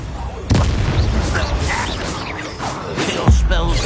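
In Hogwarts Legacy, the Expelliarmus disarming spell goes off with sharp bursts and booming impacts over a dense, loud game mix of combat effects and voices.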